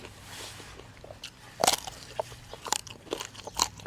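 Crunchy bites and chewing of raw wild eggplant eaten alongside bamboo shoot soup, several loud close crunches in an irregular rhythm, with no talk.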